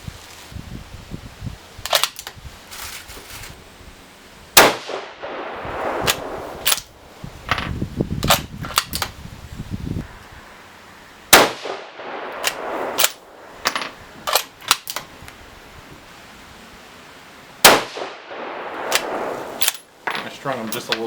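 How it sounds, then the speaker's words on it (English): A 6mm Creedmoor rifle fires 108-grain Berger bullets outdoors. Three sharp, loud cracks are spaced several seconds apart, with smaller clicks and handling noises between them. "See if I can shoot a real nice group with the cold bore."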